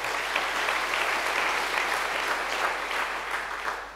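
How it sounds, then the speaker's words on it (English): A conference audience at a EuroPython lightning-talk session breaks into steady, dense applause that holds evenly and tapers slightly at the end. "Round of applause,"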